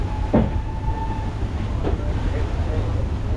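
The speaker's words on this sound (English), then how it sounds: "you might actually see a glimpse of the steam train just going across the viaduct on our right hand side" A steam train crossing a viaduct rumbles steadily in the distance, a low continuous rolling noise with faint rhythmic clacks underneath, heard from a boat.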